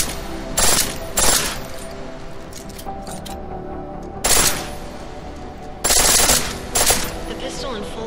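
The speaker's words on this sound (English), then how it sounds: "The pistol in full auto will take down targets fast, but it'll burn through your ammo." Pistol fired on full auto in the game Deus Ex: Mankind Divided, several short, loud rapid bursts separated by quieter gaps, close and clear with no talk over them.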